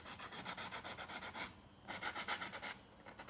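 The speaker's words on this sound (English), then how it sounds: "grit sandpaper and gently sand the edge" Sandpaper rubbing gently along the edge of decoupage paper in rapid, rhythmic rasping strokes, two close bursts separated by a short pause, with no talking.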